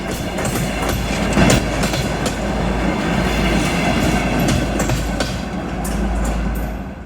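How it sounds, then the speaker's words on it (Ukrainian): A passenger train rattles along the rails with steady rhythmic clickety-clack and rumbling wagons, loud and close throughout, arriving early in the morning in Zakarpattia. "Наш потяг прибував рано вранці і нам потрібно було виспатися."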